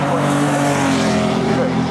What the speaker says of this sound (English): as 34 now hit the brakes and come through the chicane